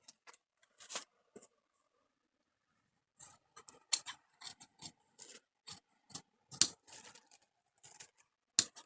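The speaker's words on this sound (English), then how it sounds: "And I'm just cutting a size small since these fabrics are super stretchy." Scissors snipping through stretchy fabric while a pattern is cut, irregular crisp close snips and rasping cuts in bursts, separated by brief pauses of silence, with no talk.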